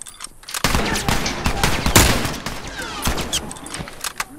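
Dense gunfire from The Last Of Us Remastered multiplayer supply raid, rapid overlapping rifle shots and bursts in a loud continuous fusillade, with no voices heard.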